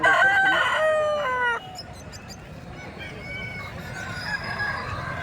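A Kundarapalli breed rooster crows once, loud and close, with the drawn-out call breaking off abruptly, followed by fainter distant crowing and clucking from other fowl.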